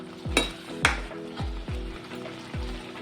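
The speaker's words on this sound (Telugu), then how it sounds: "ఇది కొంచెం దగ్గర పడేంత వరకు కలుపుతూ ఉండాలి మాడిపోకుండా" Carrot halwa being stirred in a pan, the spoon scraping in a steady rhythm of about five strokes over a soft sizzle, close and fairly quiet.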